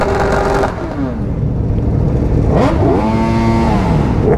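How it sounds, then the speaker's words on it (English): Several superbikes, a Kawasaki Ninja H2, Aprilia RSV4 1100 Factory and Ducati V4S, revving loudly together, engine notes rising and falling in overlapping sweeps, close and continuous with no talk. "we'll just let you hear the bikes for now."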